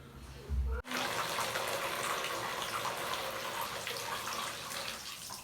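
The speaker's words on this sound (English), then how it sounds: "Now I'm just going to move the soaked wool back into this basket down here, and then I'll do another rinse." Soaked raw wool fleece being rinsed, with a steady rush of running water like a tap filling a basin, preceded by a short low thump and splash, moderately quiet and without talk.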